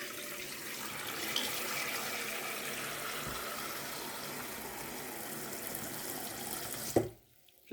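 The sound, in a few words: tap water filling pan to soak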